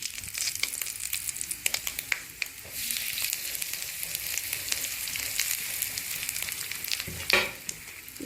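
Asafoetida and split lentils fry in hot oil for a South Indian tempering, giving a soft, continuous sizzle with scattered crackles and pops, fairly quiet and close, with no talking.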